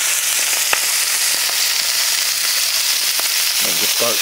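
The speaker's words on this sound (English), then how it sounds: "If you've got your pan hot enough, you should have a nice sizzle." Steady crackling sizzle of fajita vegetables frying in a hot pan, with a few sharp pops and a brief clatter of stirring near the end.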